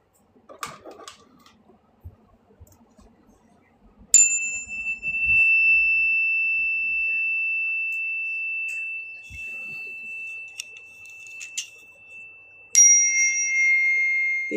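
Healing sound-frequency instruments are struck twice after some quiet handling noise, each strike leaving a bright, high, steady ring that sustains for many seconds and slowly decays.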